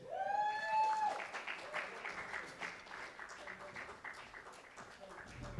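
Audience applause at a live music gig at The Bedford, starting with a loud whoop or whistle over the clapping, then steady applause and cheering that gradually thins out.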